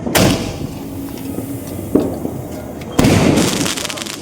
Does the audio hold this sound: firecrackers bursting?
yes